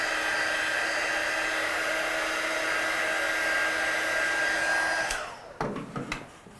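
A hair dryer blows steadily on a watercolour-painted Christmas card, a close, even whirring drone for about five seconds before it switches off, followed by a few light clicks and handling noises.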